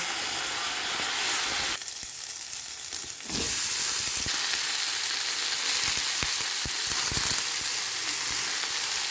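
Onions fry in oil with turmeric and green chili for a fish curry, a loud constant sizzle that dips briefly as ingredients go in, then swells again with spatula scrapes and knocks against the pan.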